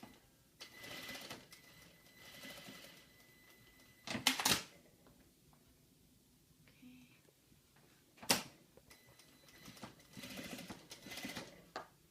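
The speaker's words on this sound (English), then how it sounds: "we have to top stitch to hold down the seam allowance in certain areas, and that's what she's doing right now" A sewing machine top stitches along a seam allowance on a shawl vest, running in several short rapid whirring bursts with pauses between, fairly faint and close, with sharp clicks and handling noises.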